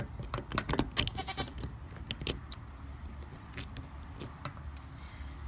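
Goats bleating in a farm setting during a diatomaceous earth dusting routine, several short overlapping calls clustered early then sparser bleats over a low rumbling background.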